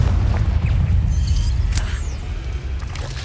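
A Confringo fire-blast spell in Hogwarts Legacy erupts as a deep rumbling boom with a burst of crackle and whoosh, loud and close, then tailing off into a low roar.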